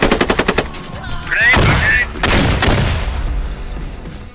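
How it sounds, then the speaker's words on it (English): Squad video game combat: a quick burst of rapid gunfire followed by a grenade blast and further heavy shots at close range, with brief voices and radio chatter mixed in. "Grenade!"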